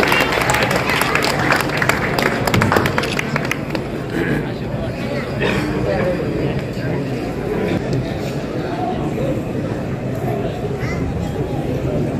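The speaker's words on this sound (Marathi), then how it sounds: "या अनोख्या भेटीसाठी आपण सगळ्यांनी टाळ्या वाजवून या ठिकाणी शुभेच्छा द्याव्या" A crowd claps loudly and steadily at a birthday celebration in Khed, a dense wash of applause that is strongest at the start, then settles into murmuring and chatter.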